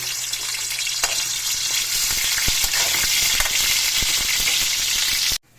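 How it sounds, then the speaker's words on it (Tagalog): Squid balls fry in a hot wok with a loud, continuous sizzle and crackle, scattered with small pops and stirring clicks, cutting off abruptly at the end. "ang kawali guys unahin natin yung squid ball"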